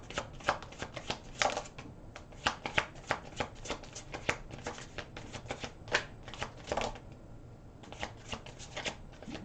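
Tarot cards being shuffled by hand, a steady run of crisp riffling flicks and soft slaps close to the mic, repeating in quick bursts throughout with no talking.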